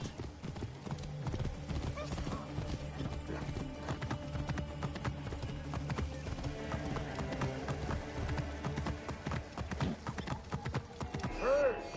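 Horse hooves clip-clop in a steady trotting rhythm in Assassin's Creed Origins, loud and close under game dialogue, with a brief whinny near the end.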